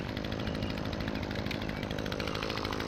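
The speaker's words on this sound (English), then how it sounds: "I find that this articulating hedge trimmer right here, the pull trimmer, just easier to shape it" An Echo HCA-2620 articulating gas hedge trimmer cuts through a hedge, its two-stroke engine buzzing loudly and steadily close by with the rapid chatter of the blades, no voices.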